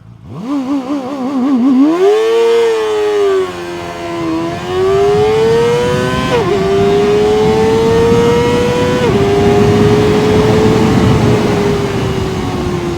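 A Kove 450 RR motorcycle launches hard under launch control, its engine note climbing steeply through several sharp gear changes, loud and close, with no talking.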